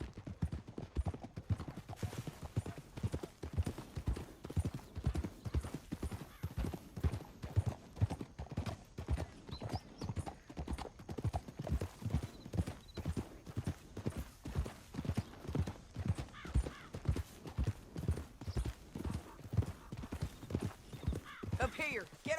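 Horse hooves in Red Dead Redemption 2 clip-clop in a quick, steady trotting rhythm from start to finish, fairly close, with faint background ambience.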